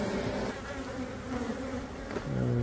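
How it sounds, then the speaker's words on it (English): Dense, continuous buzzing of many bees swarming around a nest built inside an outdoor light pillar, close and steady throughout with no talking. "Look at all these bees coming out the wall."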